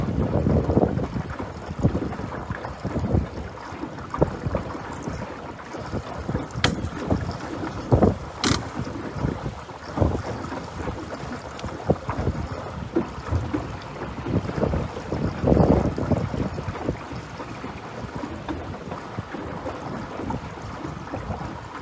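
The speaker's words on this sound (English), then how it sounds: "I got another boat motoring directly toward me." Broadband rumble of water and wind with a steady engine-like drone building over twenty seconds, like a motorboat drawing closer across open water.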